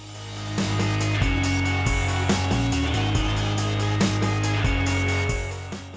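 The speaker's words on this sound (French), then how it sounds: "Puis je m'attaque au trou principal, le trou par lequel les fraises et les collets vont ressortir, ici avec ma plus grosse fraise et une perceuse" A steady, loud electric drill whir with a low droning tone that shifts in pitch as it runs continuously, boring a large hole through a plexiglass plate with a big bit.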